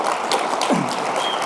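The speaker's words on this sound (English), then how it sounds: "huge round of applause to all of our maintainers and contributors" Conference audience applause for open-source maintainers and contributors at a tech event, a brief steady patter of many hands clapping, fairly even and moderately loud, with no talk.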